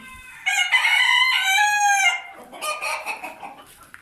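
A rooster crows loudly and close by, a long harmonic call, followed by softer clucking from chickens.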